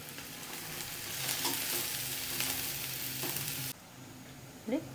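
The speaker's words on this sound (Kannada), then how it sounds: "ಇದನ್ನು ಚೆನ್ನಾಗಿ ಫ್ರೈ ಆಗಲಿ" Onion, ginger garlic paste and green chili sizzle steadily in a hot pan with soft stirring scrapes, a loud continuous fry that drops abruptly near the end, leaving a quieter hiss and a brief clatter.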